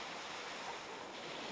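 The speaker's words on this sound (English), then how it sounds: "Then take a stroll along the 2 kilometer stretch of Busan's famous Haeundae Beach." Surf rolls in at Haeundae Beach in Busan, Korea, a steady soft wash of waves with no voices, heard at a distance.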